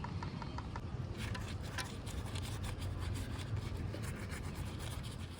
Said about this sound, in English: I'll use a brush and brush it over.